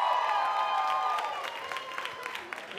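A comedy club audience claps and cheers in a brief burst, with whoops and shouted voices early on that thin into scattered clapping as the noise tapers off.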